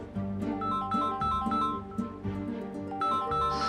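A phone rings with a repeating melodic ringtone, a series of bright tonal notes in a steady pattern, moderately loud and alone without talk.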